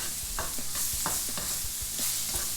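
Onions fry in a pan for a Thai-inspired coconut milk and peanut chicken dish, giving a continuous close sizzle with rhythmic stirring scrapes every half second or so. No one talks.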